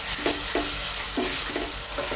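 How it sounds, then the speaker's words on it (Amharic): Onions fry in oil for an Ethiopian pumpkin stew, a dense, steady sizzle heard up close, broken by several short scraping strokes of stirring. "ሽንኩርቴ እየተጠበሰ ነው።"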